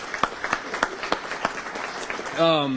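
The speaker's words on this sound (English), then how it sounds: "if you guys would join me in a short round of applause" A short, sparse round of applause from a small audience at a meet-the-candidates forum, with distinct individual claps in a loose rhythm before a voice begins speaking at the end.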